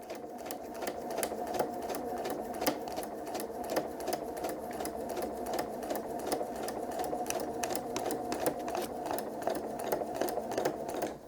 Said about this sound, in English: Now I am going to do a back stitch to start. And then we're just going to simply sew along that line.